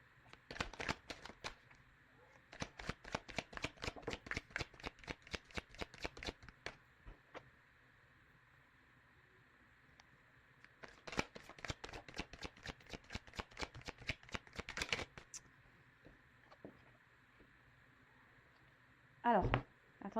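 Tarot cards shuffled close up in quick rapid bursts of crisp riffling patter, pausing between runs, with someone speaking at times.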